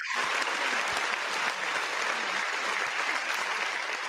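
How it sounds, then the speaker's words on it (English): Steady applause from a livestream audience, a dense even patter of many hands filling the whole stretch at a moderate, fairly distant level. "We're going to give them a round of applause for everyone in chat"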